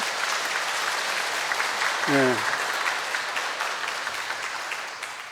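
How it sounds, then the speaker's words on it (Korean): A congregation in Apgujeong Catholic church claps during a monsignor's golden jubilee celebration, a full, steady applause that tapers off, with a brief spoken word over it. "뭐 이렇게 박수까지 치시는데"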